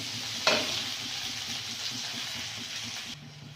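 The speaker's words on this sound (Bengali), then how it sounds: "পেঁয়াজটা ভালো করে ভাজা ভাজা করে নেব" Onions fry in a pan in a village kitchen, a steady close sizzle with a rhythmic low stirring pulse and one sharp spatter near the start.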